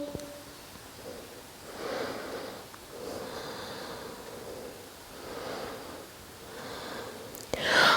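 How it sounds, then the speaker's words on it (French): Slow, steady breathing during a seated yoga twist, soft drawn-out inhales and exhales repeating in an even rhythm, close and quiet, with a louder rustle at the end. "On respire."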